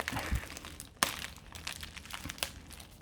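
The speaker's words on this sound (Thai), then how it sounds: "มันก็ไม่เชิงเป็นกล่องนะ มันก็เป็น เหมือนถุงพลาสติก" Crinkling of a plastic bag as a Redmi K30 phone case is unboxed, giving close, continuous rustling and crackling with a sharper crunch near one second and another around two and a half seconds.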